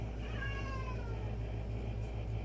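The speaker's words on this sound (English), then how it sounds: "my cat has not gotten used to the new dogs, and so she's been crying constantly" A female cat meows in distress, upset by newly arrived dogs in the home; one drawn-out, wavering cry sounds early over a steady low hum of household noise, with no talk.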